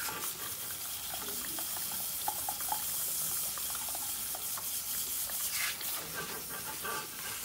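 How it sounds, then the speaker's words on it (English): Warm tap water runs steadily into a salon sink for washing hair, a continuous soft hissing splash at low level with small drips and clinks heard now and then. "So my water's on."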